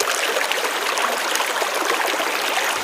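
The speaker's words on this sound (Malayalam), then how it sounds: "നല്ല രസമുണ്ടല്ലേ ഈ തോട് കാണാൻ?" A small stream flows steadily nearby, with a constant bright rushing and trickling sound and no voices.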